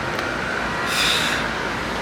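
A subway station in Korea, filled with a steady loud rumble of a train and rail noise, with a brief hiss-like swell partway through and no clear talk.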